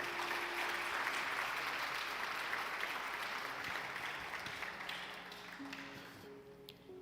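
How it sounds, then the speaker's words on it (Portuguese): A church congregation claps loudly and steadily for the Lord after a call from the pulpit, dense sustained applause filling the room and slowly thinning toward the end. "Você pode aplaudir o Senhor bem forte?"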